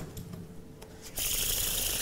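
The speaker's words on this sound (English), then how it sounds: "but I am only shuffling" A magician shuffles a deck of playing cards during a show, soft scattered card taps leading into a louder continuous riffling rush near the end, close and clear.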